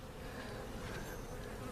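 Honey bees in a weak laying-worker hive give a faint, continuous buzzing drone, steady and close, with no other sounds over it.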